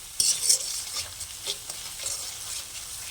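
Spices with turmeric are sautéed for a Bengali rui fish rezala, a close, steady hiss of frying with a few sharper stirring scrapes in the pan.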